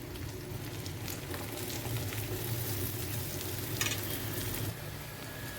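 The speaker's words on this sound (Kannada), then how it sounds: "ನೋಡಿ ಈ ಥರ ಕುದಿಯುವಾಗ ನಾನು ಈಗ ಈರುಳ್ಳಿ ಹಾಕ್ಕೊತಾ ಇದ್ದೀನಿ" Onions frying in a pan for an North Karnataka stuffed brinjal curry, a dense continuous sizzle with low bubbling beneath and a brief scrape near the end, close and steady, no voices.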